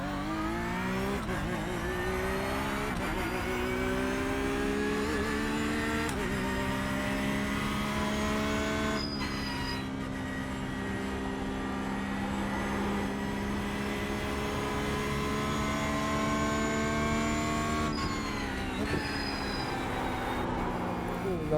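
Porsche GT3 race car in iRacing on cold tyres, its engine droning steadily with rising and falling pitch as it revs through gears, continuous and close throughout.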